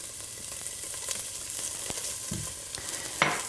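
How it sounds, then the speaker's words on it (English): Chopped chorizo sausage sizzles and spits in a hot pan, a steady crackle with occasional sharper pops and stirring scrapes, close up. "in our hot pan, I'm going to put some chopped up chorizo sausage. You can hear it sizzling."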